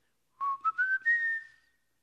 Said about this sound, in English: they could have just whistled